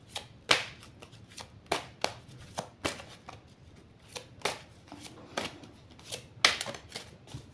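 A deck of oracle cards is shuffled and cut by hand, with a run of sharp, close riffling snaps and slaps at an uneven pace and no talking.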